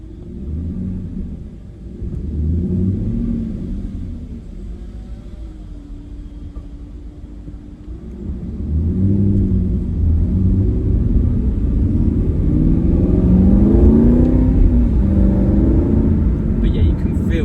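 2014 Aston Martin V8 Vantage 4.7 N430 coupé with SportShift II gearbox, deep V8 exhaust rumble rising and falling through gear changes, heard from inside the car under people talking.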